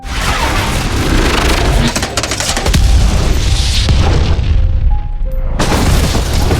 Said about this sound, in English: Alice and Ada Wong shot at the gas tank together